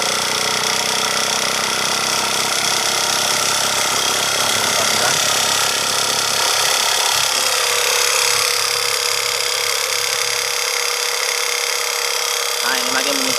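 Petrol-free genset running again, a loud continuous mechanical roar and rattle close by, the low rumble fading partway through while a voice talks over it.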